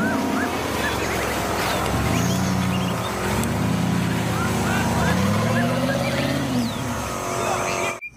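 A jeep driving past, a steady engine rumble with shifting, rising and falling tones over mixed traffic noise, fairly close and loud, with no talk.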